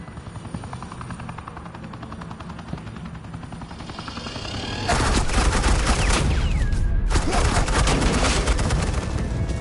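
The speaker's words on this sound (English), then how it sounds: "suppressing fire" Sustained suppressing gunfire in a Batman video game, a loud dense barrage of rapid shots that erupts midway over a steady helicopter-like drone and continues to the end.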